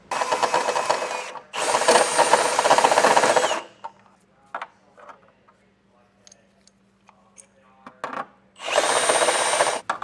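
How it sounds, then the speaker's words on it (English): A power drill bores a hole in the body of a 2022 Toyota Camry to fit a Curt trailer hitch receiver, in two long loud bursts with a quiet pause of small handling noises between them. "just take it slow, drill a little bit, check to see if it fits"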